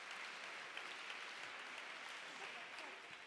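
An audience applauds a school class before its theatre performance, a continuous, fairly faint wash of many clapping hands that holds steady for the whole few seconds.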